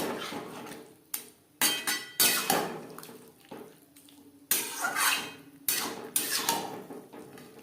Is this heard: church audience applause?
no